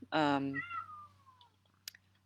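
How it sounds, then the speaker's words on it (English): A pet cat gives one loud, drawn-out meow followed by a softer falling trail, close to the microphone in a quiet room, with a brief spoken filler word. "if you're hearing my cat in the background"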